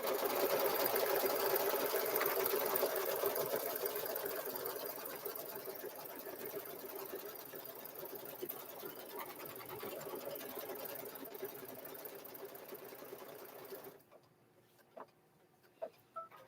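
Embroidery machine stitching down the top of a zipper bag in the hoop, a fast steady whirring chatter near and fairly loud for most of the run, fading lower before stopping, then a few faint clicks.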